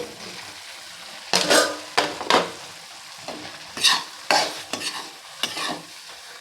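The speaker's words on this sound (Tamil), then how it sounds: "இப்போ மஸ்ரூமை சேர்த்துக்கலாம்" Mushrooms being stirred and fried in a cashew paste gravy for a Kasuri methi butter mushroom dish, with repeated bursts of sizzling and scraping stirs in an irregular rhythm, close and fairly loud with no talk.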